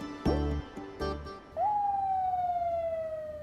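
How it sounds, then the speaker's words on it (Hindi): A siren wails in after a couple of thumps, holding a loud, steady, slowly falling tone close by. "एम्बुलेंस की आवाज तुमने सुनी?"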